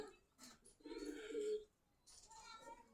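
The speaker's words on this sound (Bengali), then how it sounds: "এই হচ্ছে বিআরপিএল দুইটাই রেস করা কবুতর," A pair of racing pigeons from a club loft in Khilgaon, Dhaka, gives a low, throaty coo lasting about a second, with softer calls and nearby voices around it.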